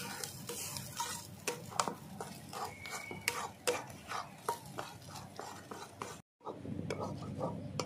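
Jackfruit seed mash with salt stirred in a pan for a bhorta sets off repeated scraping strokes of a spatula against the metal over a low fry sizzle, rhythmic and close, with one brief silent gap.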